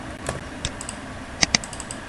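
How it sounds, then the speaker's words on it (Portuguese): A computer mouse double click at a desk: two quick sharp clicks in close succession amid a scatter of lighter clicks and taps, no talking. "Desculpa, ali um clique duplo."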